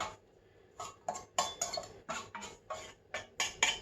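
A knife slices the tops off baked chocolate cakes, giving a run of sharp, close scraping strokes with light clinks against the board or plate, about ten in quick irregular succession with no talk.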